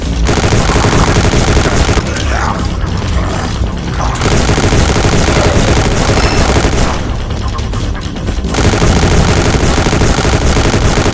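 Dense, loud automatic gunfire while shooting zombies in an offline mobile video game, continuous bursts with two short lulls where the firing thins out.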